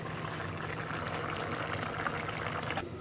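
Vegetables such as potatoes simmering in a pot for a rohu fish curry, a close continuous bubbling murmur that stays even, with no voices.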